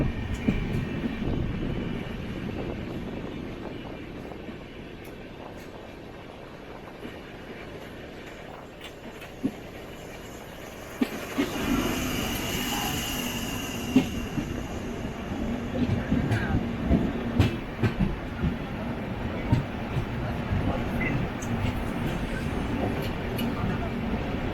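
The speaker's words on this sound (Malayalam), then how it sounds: "ഒരു മെമോ വരുന്നുണ്ട് ഓപ്പോസിറ്റ്." A MEMU electric train passes on the opposite track, heard from aboard a moving express train, rising to a louder rumbling, clattering rush midway and then continuing with wheel clicks, while a voice talks.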